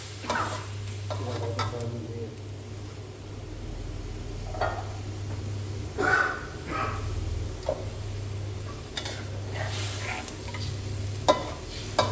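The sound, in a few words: stirring Thai red curry with water coming to a boil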